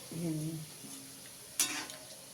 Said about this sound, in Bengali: সাদা তেলে ফুলরির আকার দিয়ে ভাজছে